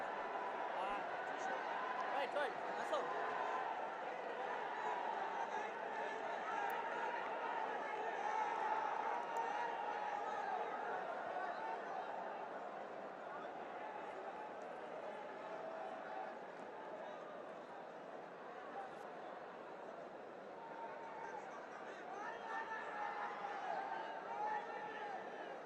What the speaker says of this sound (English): Crowd are flocking in.